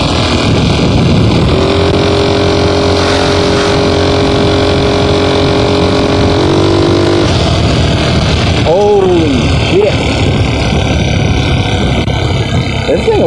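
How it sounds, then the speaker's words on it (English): A GY6 moped scooter engine drones loudly and continuously while riding, with a steady buzzing hum that shifts pitch midway, heavy wind rush throughout and a few brief rising whines near the end. "But yeah, moped's running pretty good, I'd say."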